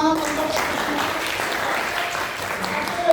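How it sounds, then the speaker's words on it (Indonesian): Audience applause at the close of a teaching session, a steady wash of clapping filling the room, with voices talking over it throughout. "Kita tepuk tangan untuk"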